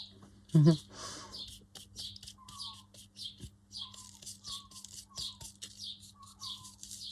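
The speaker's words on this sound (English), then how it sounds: "Oh, can you hear the birds?" Small birds chirp and tweet repeatedly outdoors in a rapid stream of high calls, a little distant, with some lower whistled notes mixed in. There is one brief louder sound near the start and faint background noise.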